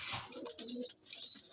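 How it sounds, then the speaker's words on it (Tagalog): Fancy pigeons coo softly in a short, close run of low, murmuring calls, with faint chirps and a bit of background rustle and no talking. "Ito yung mga ibon naman natin na dinala natin dito."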